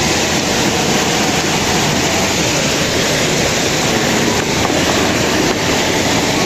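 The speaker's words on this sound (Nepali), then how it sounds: "आइपुग्यो झर्ना" Steady broadband rush of a newly found waterfall in Chitwan, Nepal, roaring loud and unbroken close by, with no voices over it.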